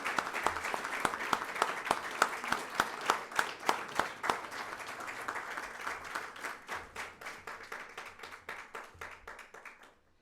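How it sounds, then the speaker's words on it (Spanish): Audience applause at an award ceremony for the Chilean Academy of Fine Arts prize, a steady round of clapping from a crowd lasting throughout, fairly close and even, tapering slightly toward the end. "Le damos un aplauso fuerte y cariñoso."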